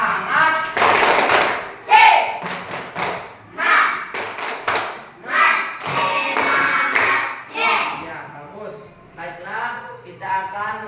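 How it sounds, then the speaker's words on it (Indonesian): A class of schoolchildren performs rhythmic spirit clapping in short bursts, the claps mixed with the teacher's talk and the children's voices in a classroom. "kita tepuk semangat dulu"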